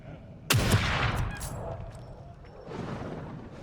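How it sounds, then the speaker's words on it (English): A heavy sniper rifle shot from The Evil Within 2 bursts out loud and close, followed by a long rumbling decay and ambient game noise. "the sniper rifle is devastating against the Lament"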